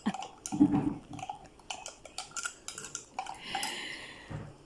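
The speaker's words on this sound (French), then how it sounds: "Ok, on va remuer, remuer, remuer, remuer." Utensils scrape and clink against a bowl while a bread dough mixture for a meat and chicken stuffed loaf is stirred, in irregular close strokes with a brief clatter near the start.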